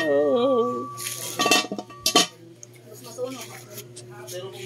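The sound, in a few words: large cooking pot and dishes clanking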